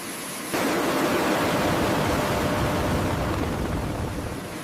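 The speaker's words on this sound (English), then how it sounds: "Advancing to full afterburner" A Su-35S jet engine roars into full afterburner on a factory run, a sudden jump to a loud, broad, steady rushing blast that holds for several seconds, with no voices.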